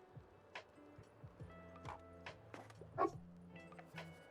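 A stray dog in the video game Tiny Bookshop gives several short, soft yips and barks at irregular intervals over light game music, faint and moderately close.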